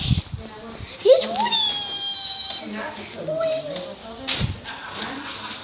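Cats at a stable meow loudly and close, including one long rising and falling cry, over a rustling background with people talking.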